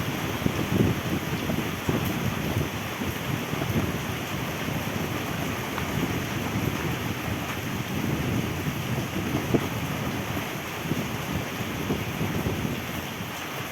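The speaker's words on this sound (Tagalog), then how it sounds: "talagang kitang kita nyo naman ang lakas ng hangin kita nyo sa puno ayan oh sobrang lakas na" Strong typhoon wind from Typhoon Aghon in Real, Quezon roars steadily into the microphone, a dense continuous rush with gusty buffeting throughout and no voices.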